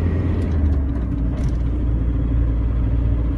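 Ford Transit 2.5-ton van with a VGT diesel engine straining at low revs up a ramp, a deep steady rumbling drone that holds loud and constant from start to finish, with no talk over it.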